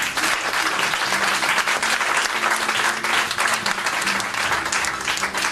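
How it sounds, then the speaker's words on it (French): A church congregation applauds and cheers for the Lord, with dense, continuous clapping from a large crowd that stays loud and steady throughout, with faint voices mixed in. "On peut acclamer le Seigneur."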